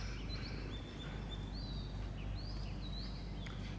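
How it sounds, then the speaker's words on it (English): Birds chirp faintly at dawn on a night walk through Pattaya, Thailand, with scattered thin calls and short trills over a steady low hum of distant city noise. "The birds are chirping."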